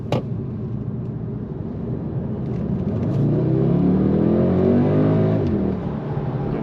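An Audi SQ2 with a 300 hp engine and quattro drive accelerating, a low engine rumble building into a loud, rising rev that climbs steadily before dropping off as it shifts near the end, with no talk.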